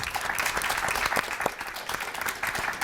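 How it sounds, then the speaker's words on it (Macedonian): Studio audience clapping at the close of a televised panel discussion show, a dense, sustained burst of applause at moderate loudness with no talk over it. "аплауз за публиката"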